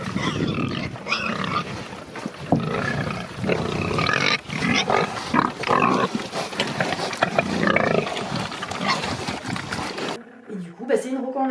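Pigs on a farm on the Causse Méjean grunt and squeal loudly and repeatedly at close range, with someone talking over the animal noise before it drops away near the end.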